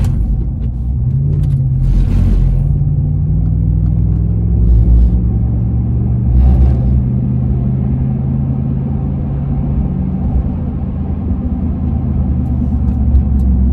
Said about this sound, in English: Check engine light just popped on and my truck's revving up.